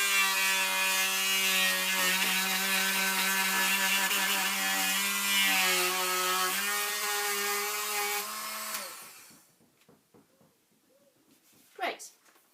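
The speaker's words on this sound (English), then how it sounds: "This is now a cylindrical sanding, very coarse sander." A very coarse cylindrical sander sanding lino whirs with a steady mechanical hum, then winds down and stops, leaving faint clatter and a brief voice.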